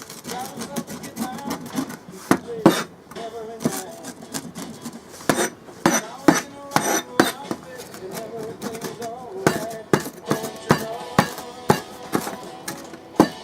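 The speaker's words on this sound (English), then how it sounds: "Just basically roll it and you're chopping your onions." Onions being chopped with a rocking ulu knife, an Alaskan-style curved blade, on a cutting board: a steady run of sharp, close knocks and rasping cuts in an irregular rhythm, with no voices.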